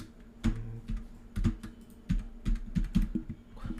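Typing on a computer keyboard while coding, a quiet sequence of separate clicking keystrokes in an uneven rhythm, close and alone with no talk.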